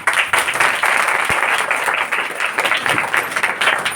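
A congregation claps steadily during a Hindi Christian church sermon, with dense, continuous applause that stays loud and even throughout, with no talking over it.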